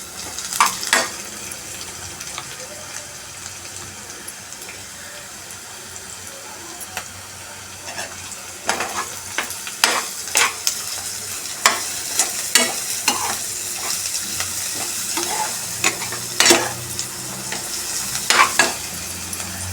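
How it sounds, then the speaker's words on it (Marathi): Onion with turmeric and salt frying in a pan, a continuous low sizzle broken by repeated sharp scrapes and clicks of a spatula stirring, sparse at first then more frequent, close and unaccompanied by talk. "आता कांदा चांगलं परतवायचं, एकदम मऊ पडायला पाहिजे कांदा."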